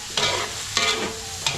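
Garlic and onion sauté in a pan for beef caldereta, three bursts of stirring and sizzling at close range, each fading back to a low steady fry with no one talking.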